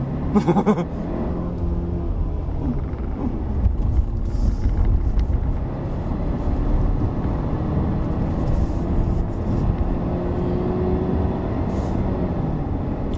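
A Proton X70 with a 7-speed dual-clutch gearbox climbing the Genting hill road, its engine droning steadily under load from inside the cabin, with brief dips as it shifts up smoothly.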